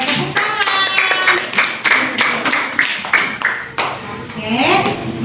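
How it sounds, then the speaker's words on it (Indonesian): Classroom clapping after a student group presentation, a series of loud rhythmic hand claps roughly twice per second, with children's voices talking over them. "Oke, tepuk tangan."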